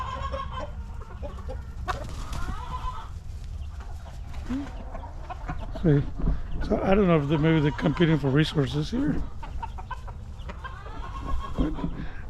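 A backyard flock of hens and roosters clucks steadily, with the roosters pushing to mate with the hens. The clucking grows busier and louder midway, and a person talks over it throughout.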